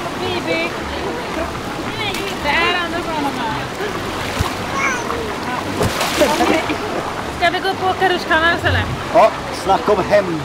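Water splashes and sloshes in a large indoor swimming pool at Sweden's biggest bathhouse, a continuous echoing wash with sharper splashes, under children's and adults' chatter.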